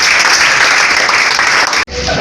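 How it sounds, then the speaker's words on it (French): Loud, dense applause from a church audience fills the space in a continuous roar of clapping, cutting off abruptly near the end before resuming briefly. "Applaudissez à Jésus."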